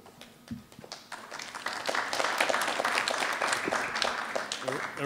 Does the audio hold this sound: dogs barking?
no